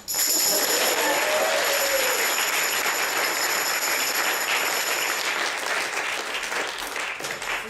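An audience at a stage show breaking into sustained applause at intermission, a dense, even roar of clapping from a full hall that holds steady for several seconds, with faint voices mixed in.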